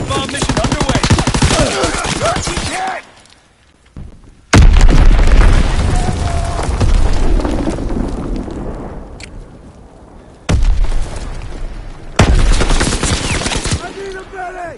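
Bomb explosions in Call of Duty WWII gameplay during an Azon bomb mission: several heavy, booming blasts burst out abruptly with rumbling tails, alongside crackling gunfire.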